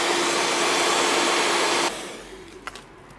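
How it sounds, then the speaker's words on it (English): A heat gun or hair-dryer-style blower warms red adhesive tape on the back of honeycomb grille number plate magnets for an Audi TT RS Mk3 8S, roaring loudly and steadily up close, then cutting out and leaving a faint hiss. "So peel the red tape off the back and then heat the tape up here."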